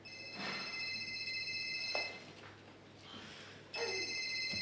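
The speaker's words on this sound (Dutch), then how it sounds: "Welke idioot is zijn mobiel aan laten staan?" A mobile phone rings during a school class stage performance, a steady electronic ringtone sounding in two long bursts with a gap between, faint in a room with some background noise.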